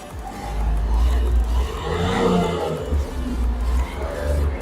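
A 2018 Hyundai Xcent Prime diesel engine is revved repeatedly, a close, rough roar that swells and falls in several surges with a deep low rumble.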